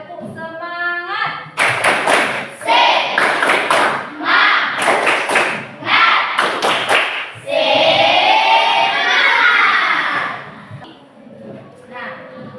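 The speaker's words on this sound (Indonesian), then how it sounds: "Tepuk semangat." Children's rhythmic spirit-clapping chant in a classroom lesson: bursts of loud, patterned hand claps alternate with group chanting voices, fairly close and energetic throughout.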